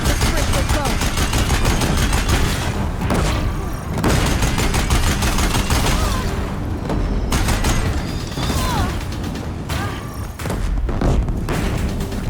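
Deathbringer war machines in Horizon Zero Dawn pound a bridge with sustained heavy gunfire, a dense, loud barrage of rapid shots and booming impacts with clanking mechanical noise that lasts throughout and barely lets up.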